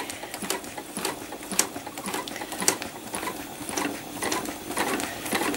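Sewing machine stitching trapunto flowers at a slow pace, its needle ticking in a quiet, uneven patter of close clicks without talk.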